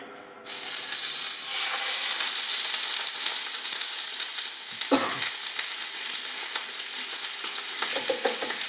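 Bream sizzles loudly in smoking-hot oil in a pan, a dense steady crackle that starts abruptly and carries on without pause, with a brief clunk partway through.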